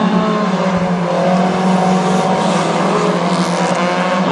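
Race cars at Granite City Speedway in a heat race roar steadily around the track, a loud continuous engine drone with rising and falling passes and no speech.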